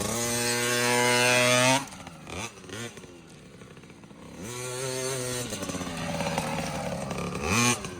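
A KTM 65 dirt bike engine rides laps, a loud, high buzzing two-stroke note that climbs and drops with throttle, with several sharp rev bursts, easing and rising again over about eight seconds with no talk.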